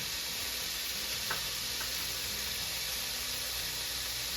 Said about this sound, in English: I'm just gonna saute off my last batch here